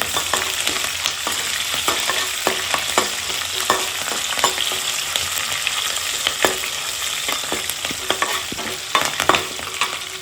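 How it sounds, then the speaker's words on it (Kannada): Chana dal frying in oil in a pan, with a steady dense sizzle and crackle punctuated by frequent sharp stirring scrapes, close and loud throughout with no voices. "ಕಡಲೆ ಬೇಳೆ ಹಾಕೊಳ್ತಾ ಇದ್ದೀನಿ, ಸ್ವಲ್ಪನೇ. ಒಂದು ಸ್ವಲ್ಪ ಫ್ರೈ ಆಗಲಿ."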